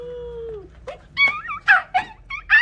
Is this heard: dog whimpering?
yes